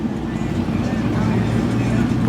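A Dodge Hellcat engine idles nearby with a steady low rumble, while people talk loudly over it throughout.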